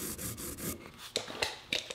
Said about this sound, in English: Now I'll draw a line 1/4 inch from the edge all around.